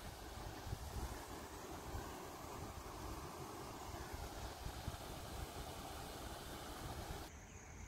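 Rainwater pours in a stream out of the forest on a farm after heavy rain, a constant broadband rushing wash with no pauses, close and steady throughout.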